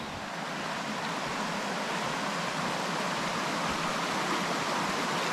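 A flooded creek rushing past in a broad, steady roar of churning water, loud and close, constant throughout with no voices.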